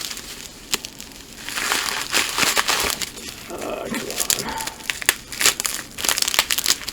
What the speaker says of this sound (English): Let me get it unwrapped.